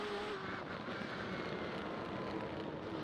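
BMW M8 GTE race car in iRacing at Detroit's Belle Isle circuit, its engine a steady loud broadband roar with faint pitch shifts, heard alone throughout.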